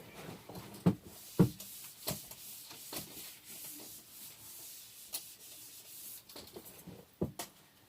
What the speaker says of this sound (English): let me get an eraser real quick